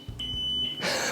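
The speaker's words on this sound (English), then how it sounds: "Let's see how the horn sounds." Horn on a VSETT 10+ dual-motor electric scooter gives a single thin, steady electronic beep lasting over half a second, fairly quiet and close, followed by a brief burst of rustling.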